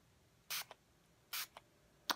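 Three short hissing bursts from a plastic spray bottle of facial mist, triggered close up in a quiet room, each spritz followed by a faint click of the trigger.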